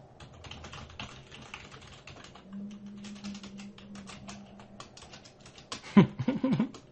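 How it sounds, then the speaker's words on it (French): Quiet, rapid clicking of keys typed on a Mac computer keyboard, irregular bursts of taps close to the microphone, with a brief louder thump near the end. "Oh là là, clavier Mac."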